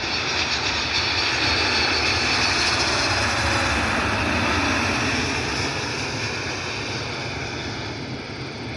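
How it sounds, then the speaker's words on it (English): A United Airlines jet airliner arriving from Los Angeles roars past steadily, loud and broad, holding for most of the stretch before easing slightly toward the end, with no voices. "United Airlines 2443 inbound from Los Angeles."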